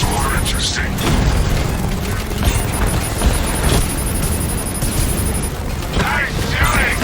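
Gunfire and explosions in Batman: Arkham Knight, a dense, continuous rumble of booms, cracks and mechanical rattling layered over game music.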